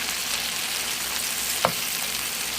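Meatballs sear in a hot pan over medium-high heat, giving a constant loud sizzle and crackle with one short clunk midway as they are turned.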